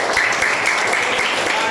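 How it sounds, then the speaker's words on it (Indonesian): A class of students at SMP Negeri 1 Sawan claps together, a brief, steady burst of hand claps in a room, moderately loud with a faint murmur of voices underneath. "Tepuk tangan dulu."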